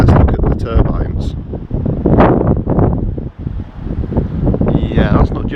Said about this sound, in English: As you can probably hear in the background, it's quite windy at the moment